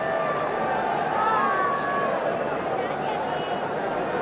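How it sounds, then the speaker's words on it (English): A large cricket crowd at Eden Gardens in Kolkata keeps up a continuous, full roar and murmur throughout, with scattered whistles and cheers rising above the babble. "Now it's a good crowd. Very good crowd here."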